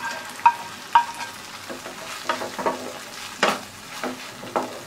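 Fried bread pieces tossed with sauced vegetables in a pan for bread chilli, with soft sizzling under a series of sharp spatula clacks and scrapes at an uneven rhythm, close and fairly loud, with no voices.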